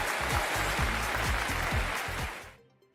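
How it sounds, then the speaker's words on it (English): A studio group applause for the EV Café podcast, a steady rush of many hands clapping with a rhythmic thumping beat underneath, cutting off abruptly after about two and a half seconds. "should we do the EV Café commercial clap where we highlight innovation and new things in our industry?"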